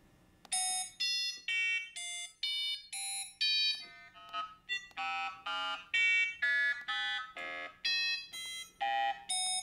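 Robot-played cylindrical aerophone, a clarinet-like instrument, sounding a quick run of short bright reedy notes in a steady stepping rhythm with brief gaps, close and clear with no talk.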